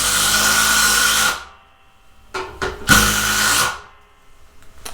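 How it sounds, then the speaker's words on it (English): A Makita 18V sub-compact brushless impact driver drives screws on high in a steady, loud run of over a second, stops, then fires a few short bursts and a longer rattling drive, all close up with no voices. "Impact driver first. So we're gonna be doing some tests. We're gonna be driving some screws."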